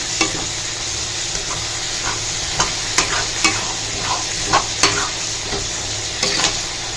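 Raw mango thokku sautéing in a pan, a steady sizzle punctuated by a series of distinct spoon scrapes and knocks against the pan as it is stirred, close and fairly loud.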